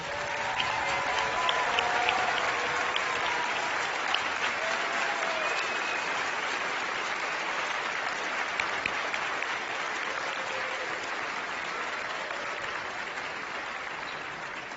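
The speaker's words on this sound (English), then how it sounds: "We'll give you a huge round of applause." A large audience at a youth awards ceremony in the Martin Woldson Theater at the Fox claps steadily and densely for the whole stretch, a sustained wash of applause with faint cheers and whistles mixed in, holding a fairly even level.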